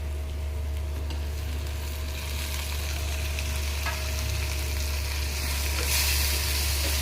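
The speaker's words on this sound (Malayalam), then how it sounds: "തക്കാളിയും കൂടെ നല്ലോണം ഒന്ന് വഴന്നിട്ടോടെ." Tomatoes sautéing in a pan with softened onions for a soybean bhujia make a continuous, even frying sizzle at moderate level, close by, with a low steady hum beneath and no talking.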